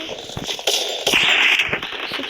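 Rapid bursts of gunfire from a first-person shooter video game during a headshot attempt, sharp repeated cracks over a steady bed of game noise, loud and close.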